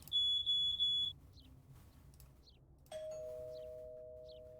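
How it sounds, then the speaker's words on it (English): A smoke alarm and a doorbell sound indoors: a few bright high electronic beeps, then a sustained two-tone chime ringing out and slowly fading, with faint soft blips in between and no talk. "Look up, there's a smoke alarm and doorbell."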